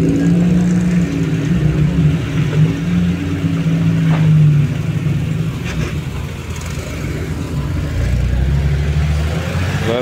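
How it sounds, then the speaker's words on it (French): A Citroën 2CV at a historic car meet at the Laon circuit rumbles past with a mid-pitched engine drone, fairly close and steady, fading slightly toward the end. "Une 2 chevaux, tiens."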